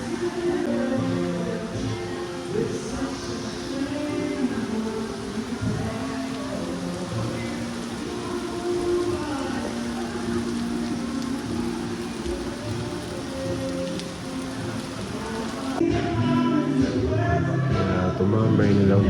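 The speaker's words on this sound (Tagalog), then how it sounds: "Napakalakas ng ulan tsaka kidlat at kulog" Heavy rain pours at night in Boracay, Philippines, during a storm with lightning and thunder. The downpour is a steady, dense roar throughout and swells slightly louder near the end.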